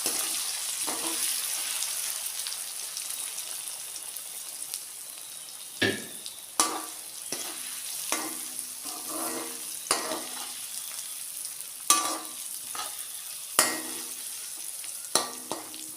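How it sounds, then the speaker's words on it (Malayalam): Masala-coated soya chunks fry in hot coconut oil with a steady soft sizzle, punctuated by occasional sharper pops and stirring clinks, with no talking. "എണ്ണ നന്നായിട്ട് ചൂടായി അതിലേക്ക് ഈ മസാല പുരട്ടി വെച്ചിരിക്കുന്ന സോയ ചങ്ക്സ് ഇട്ട് കൊടുക്കും."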